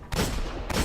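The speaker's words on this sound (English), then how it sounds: "I would normally rock a hand cannon, which is what you see me rocking right now." Hand cannon fire in the video game Destiny: two loud, heavy booming shots about half a second apart, each with a sustained rumbling tail, close and alone.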